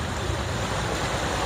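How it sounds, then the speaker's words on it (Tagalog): Strong sea waves surging and washing in a steady broadband roar, mixed with wind buffeting the microphone, continuous and fairly loud with no voices. "Lalo po ngayon, malakas na ang alon."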